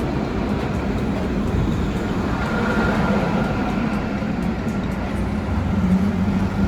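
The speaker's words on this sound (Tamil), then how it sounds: "இதுதான் ட்ராம்." A Dubai tram rolls past beside the water canal, a steady broadband rumble of wheels and motors that stays fairly loud and even for several seconds without speech.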